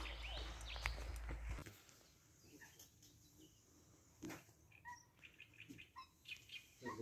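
Birds sing and chirp in the Forêt d'Orient woodland, with scattered short calls from several directions after a brief low rumble at the start, fairly faint and distant against a quiet outdoor background.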